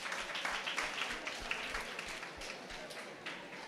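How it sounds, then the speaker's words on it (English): An audience at a student training programme gives a round of applause for a girl, a fairly faint, scattered clapping from a modest crowd that holds steady across the few seconds. "give her a round of applause"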